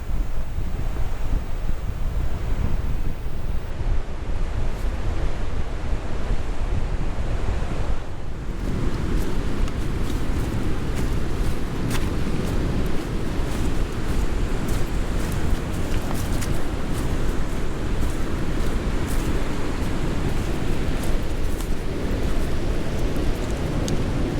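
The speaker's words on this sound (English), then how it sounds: "The west-facing beach is a magnet for surfers, but due to the very strong riptides and currents, it's only suitable for the most experienced." Surf pounds steadily onto the west-facing beach at Freshwater West, a surfers' spot with strong riptides and currents, a loud continuous roar of breaking waves with gusts of wind buffeting the microphone throughout.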